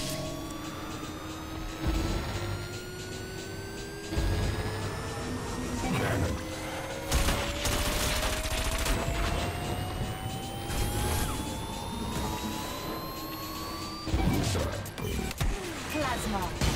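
Cannon weapon fire in the racing game WipEout Omega Collection, with rising synthetic tones, sharp bursts and impacts over a dense, continuous mechanical backdrop, loud and busy throughout.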